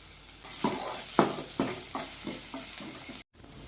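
Garlic and ginger sizzle in a pan for Bombay chutney, with a steady frying hiss and a regular series of about six scraping stirs before a brief cutout.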